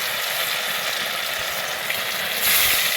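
Pieces of chhana (paneer) frying in oil, a continuous hissing sizzle at close range that swells a little louder near the end, with no voices.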